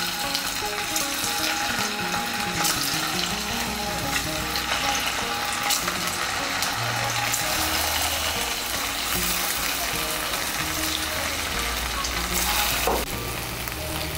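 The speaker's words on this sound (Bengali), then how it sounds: "এর মধ্যে আমি ছানার বড়াগুলো ভেজে নেব।" Chhana (cottage cheese) balls fry in white oil in a kadai, with a continuous busy sizzle and crackle and occasional stirring clatter throughout.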